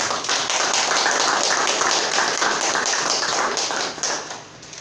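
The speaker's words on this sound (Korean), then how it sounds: "우리 박수로 축하해 드리도록 하겠습니다" A church congregation at a Sunday worship service claps steadily in dense, close applause, which fades out near the end.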